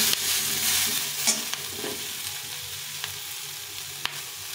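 Vegetables sizzling loudly in oil in a kadai, a dense continuous frying hiss broken by occasional scrapes and taps of a spatula as they are stirred.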